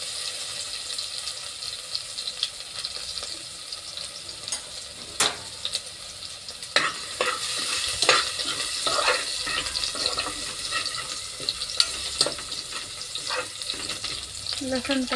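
Cumin seeds and garlic frying in a hot pan, a steady close sizzle with scattered sharp crackles and pops, plus occasional clinks of stirring and a faint running-water hiss underneath.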